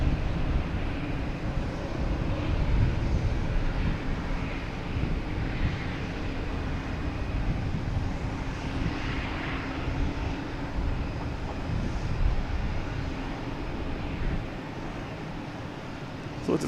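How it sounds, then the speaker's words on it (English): Air Canada airliner taxiing past at Boston Logan Airport, a steady broad engine roar and rumble with wind buffeting the microphone, holding constant throughout and easing slightly near the end. "Air Canada, just taxiing by"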